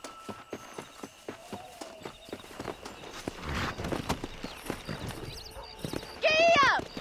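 Horse hooves clip-clopping steadily at a walk in Red Dead Redemption, close and rhythmic, ending in a loud whinny, with someone talking over parts of it.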